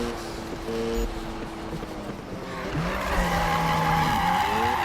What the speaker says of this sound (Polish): No teraz to łatwo robi się drift